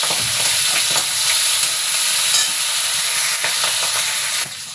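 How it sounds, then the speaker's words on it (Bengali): Onions and green chillies frying and being stirred in hot oil for a Bengali bhetki fish curry, a steady loud sizzle and hiss with occasional spatula scrapes, easing slightly near the end, no voices. "পেঁয়াজটা হালকা নাড়াচাড়া করে নিয়েছি"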